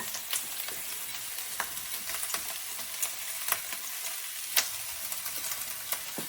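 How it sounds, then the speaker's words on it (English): Mixed vegetables sizzle steadily in a hot pan, a continuous crackling fry dotted with sharp pops and occasional stirring scrapes, close and alone with no talk. "I'm going to go ahead and add the mixed veggies in there."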